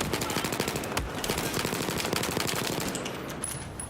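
An M4 rifle fires rapid automatic bursts in a video game, with sharp repeated shots that are loud and close for several seconds and no voices.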